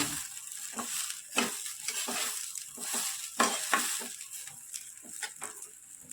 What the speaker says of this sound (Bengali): আমি এখানে চালটাকে দিয়ে দিলাম সব পড়ার মধ্যে হাতটা চালটাকে ভেজে নিচ্ছি